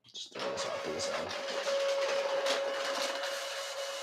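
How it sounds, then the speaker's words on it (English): A jammed printer runs with a steady whirring mechanical drone and a high motor whine, broken by faint clicks and rattles, continuous and fairly close. "My printer is messed up."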